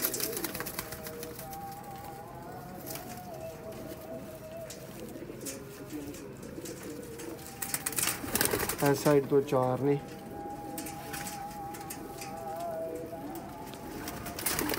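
Sialkoti pigeons coo in a loft, with soft cooing through the background and a louder, close burst of rhythmic cooing midway, while someone talks over it.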